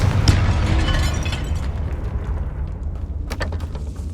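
A Confringo fire spell explodes in Hogwarts Legacy inside a tomb, a heavy booming blast with a deep low rumble that rolls on for a few seconds, followed by a few faint crackling pops near the end.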